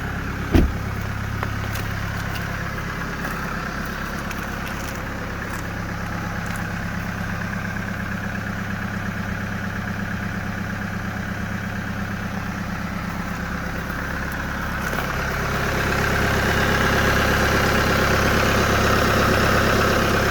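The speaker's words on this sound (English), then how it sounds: "check out see how it sounds. Cold start." A Chevy Colorado diesel pickup truck engine idles steadily after a cold start, with a low, rumbling diesel clatter following a brief start-up click, the pitch rising slightly near the end. No talking.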